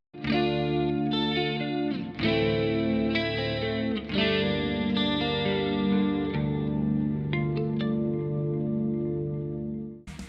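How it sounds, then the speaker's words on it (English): A clean electric guitar with a Fishman Fluence pickup in single-coil split mode plays ringing chords and single notes, sustained and bright, with a short pause midway before strumming resumes. "One of the most beautiful clean tones I've ever gotten out of a guitar."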